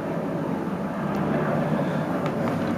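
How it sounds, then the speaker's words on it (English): A helicopter passes overhead as a loud, steady low rumble and drone that fills the whole moment. "And there's a helicopter going overhead."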